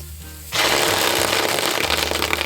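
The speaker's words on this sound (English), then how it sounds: "This is an awesome sound that happened when I cooked this tofu." Tofu pan-frying, almost toasting: a sudden loud burst of dense sizzling and crackling pops that kicks in abruptly and holds steady, close up, over a low hum.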